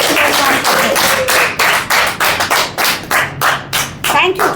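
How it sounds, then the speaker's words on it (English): Rhythmic, loud close-up clapping from a small group at a Toastmasters club meeting, steady claps in pulsing bursts for a few seconds. "So let's give a big round of applause to Toastmaster."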